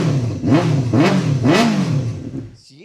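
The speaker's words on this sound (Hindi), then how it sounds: "एक बार आवाज़ सुनिए, मतलब स्मूथनेस आप देख रहे हो स्टार्ट होने की गाड़ी की" A superbike engine fires up and is revved three times in quick succession, each rising blip loud and close, settling to a smooth idle before cutting off.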